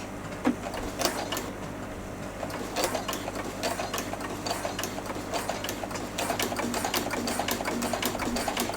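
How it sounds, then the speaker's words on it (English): A sewing machine fitted with a ruffler foot stitches at a steady medium pace, its fast mechanical whirr ticking with rapid needle clicks, close and continuous with no talking. "you don't want to go too fast when you're stitching with a ruffler foot"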